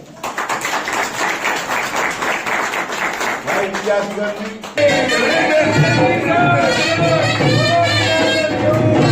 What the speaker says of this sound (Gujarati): તાળીઓથી વધારી દો